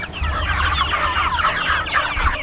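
A flock of meat chickens clucking, raised by a farm family, a dense busy chorus of overlapping clucks and chatter, close and fairly loud with no voices.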